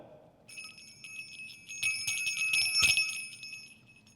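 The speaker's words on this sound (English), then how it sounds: "I shook the bell." A small silver sleigh bell is shaken, giving a bright, sustained jingling ring that swells and lingers for several seconds, with a sharp accent near the end and no talking.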